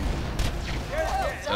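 Booming explosions in the Borderlands 2 video game, short deep blasts over a rumbling low background, while a voice speaks briefly over them.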